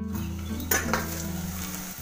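A spoon scrapes and clinks in a pan while eggplant and potato vegetables sizzle in oil with turmeric, with a steady low hum and a sharp clank partway through.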